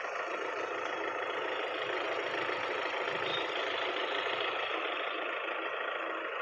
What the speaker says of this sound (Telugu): ఇంజన్ చాలా సైలెంట్ ఉంది